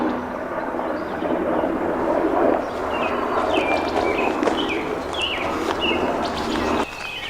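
Birds chirp and sing in short bright phrases in a park's woods over a broad, steady low rumble of military helicopters passing overhead.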